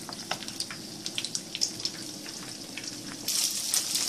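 Eggs fry in a pan for fried noodles, giving a steady close sizzle with small popping crackles that grow a little louder near the end.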